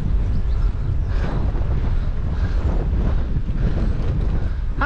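A force 5 wind blows over a microphone on the open sea coast near Mizen Head. It makes a loud, continuous, buffeting low roar that runs the whole time with no voices.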